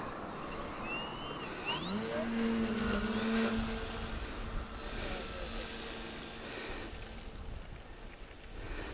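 A model Be-12 seaplane's engine revs up to a rising, steady whine during its takeoff run from water, heard close and fairly loud over outdoor background noise.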